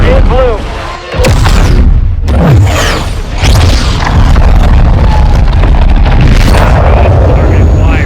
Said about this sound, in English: Missile is ready for immediate delivery. Stand by for launch.